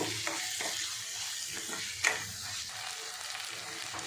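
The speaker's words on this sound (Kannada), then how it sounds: "ಬೆಲ್ಲ ಒಂದು ಸ್ಪೂನಷ್ಟು ರುಚಿಗೆ ತಕ್ಕಷ್ಟು ಉಪ್ಪು ಇಷ್ಟನ್ನು ಇನ್ನೊಂದು ಐದು ನಿಮಿಷನೋ ಎರಡು ನಿಮಿಷನೋ ಚೆನ್ನಾಗಿ ಫ್ರೈ ಮಾಡ್ಕೋಬೇಕು" Brinjal gojju cooks with jaggery and salt in a pan, a moderate, steady sizzle with soft rhythmic spatula stirring and one brief metallic clink.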